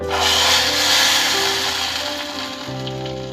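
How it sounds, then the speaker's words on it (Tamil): Hot tempering of mustard seeds, urad dal, curry leaves and four dried red chillies hits a kadhambam chutney, giving a steady loud sizzle and crackle that fades slightly toward the end. "இந்த தாளிப்பை வந்து இந்த சட்னியில் சேர்த்திடலாம்."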